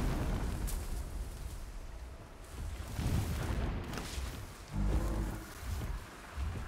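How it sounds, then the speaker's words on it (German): Distant explosion in the video game Horizon Zero Dawn: muffled low booms rumble through steady game ambience, with a firmer thud near the five-second mark, no talk. "Entfernte Explosion."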